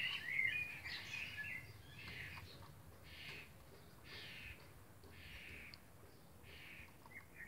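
Birds calling outdoors on a summer day, a series of short chirping bursts repeating every second or so at moderate distance over a low background hum, with no voices.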